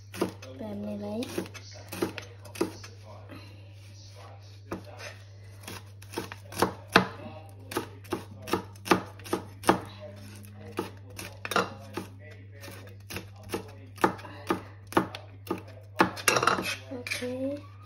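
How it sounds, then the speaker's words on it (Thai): A knife chops chili peppers on a cutting board in a home kitchen, with sharp, irregular taps that come faster midway, and a voice talks now and then. "ก็จะมาหั่นพริกนะจ๊ะหั่นพริก"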